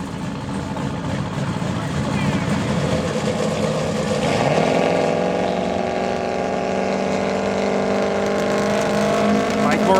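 Drag race cars, a Mazda and a Malibu, roar side by side in a heads-up race, their loud engines building continuously and shifting pitch midway, with a commentator talking over them throughout.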